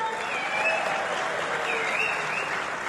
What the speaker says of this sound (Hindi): सो आप सबकी तालियां ऐसी होनी चाहिए जैसे वो यहाँ पर मौजूद हैं।